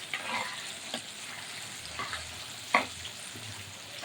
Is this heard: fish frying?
yes